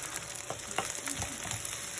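An egg sizzles and fries steadily in a pan during fried rice cooking, with a soft continuous crackle close to the mic and a few faint stirring clicks.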